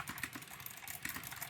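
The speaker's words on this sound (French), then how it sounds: "je vais commencer à tapoter sur le clavier et la souris" Rapid tapping on a computer keyboard mixed with mouse clicks, steady and close, a dense run of light clicks without pause, recorded on a HyperX Stinger 2 gaming headset microphone.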